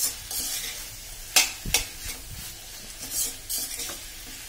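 Bell pepper bhaji sizzles gently in a pan as a spoon stirs it, with a few sharp scrapes and clinks against the metal over a low, steady frying hiss, close up.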